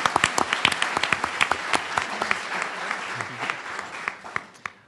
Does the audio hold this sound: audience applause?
yes